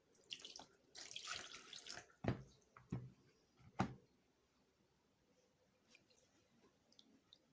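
Water poured into a bowl while preparing chin chin dough, a few splashy pours and drips near the start, then quieter handling sounds with no talk.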